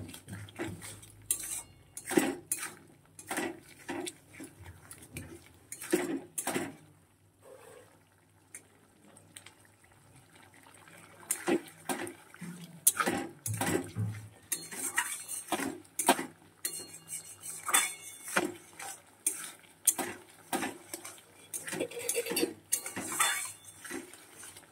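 Spices with turmeric being stir-fried in a pan while making a home-cooked egg dish, heard as repeated metallic scrapes and clanks of a utensil against the pan in irregular bursts, close and fairly loud, with brief quieter gaps.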